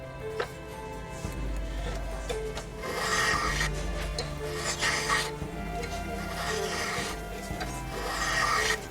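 Hand rasping and rubbing on the aged wood of an old violin: a run of steady scraping strokes, close and fairly even, repeating through the clip with no talk.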